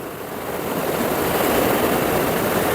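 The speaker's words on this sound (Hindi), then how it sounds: "सारे नदी नाले उफान पे हैं" Swollen rivers and mountain streams around Rishikesh rush in full flood after heavy rain in the hills, a loud, steady broadband roar of churning water that builds slightly and holds constant with no voices.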